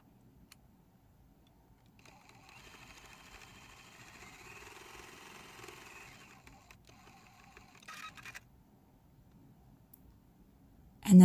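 A sewing machine stitches a seam on a fabric pin cushion cube made from charm packs, running as a faint steady whir for a few seconds, then stopping, followed by a few small clicks and a sharp bump at the very end.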